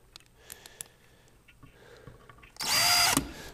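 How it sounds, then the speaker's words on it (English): A power drill drives screws into a pilot hole in wood, starting with a few faint ticks and handling noises, then a loud, close whirring burst of under a second near the end. "I'm going to run a few screws into the pilot hole that I just created"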